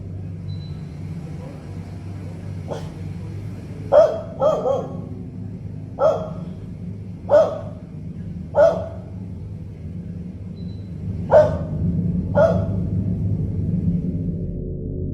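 A dog barks in a series of about eight sharp, separate barks spaced a second or more apart, moderately close, over a steady low rumbling background.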